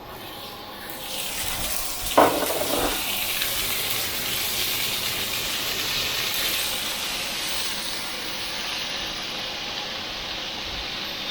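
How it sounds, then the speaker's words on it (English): Peas and prawns hit a hot pan for fried rice and a broad, loud sizzle rises and holds steady, with a brief clatter near the start as they go in. "next we're going to go in with the peas and the prawns"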